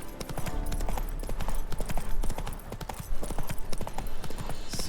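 Horse hooves clip-clop steadily in the Witcher 3 game, a continuous trotting rhythm over a dense, loud game soundscape with ambient background layers.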